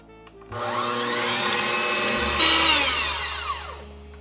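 An electric mixer whirs into batter laced with milk and almond extract, a sudden loud motor whine that rises and shifts in pitch as the beaters work, with no talking.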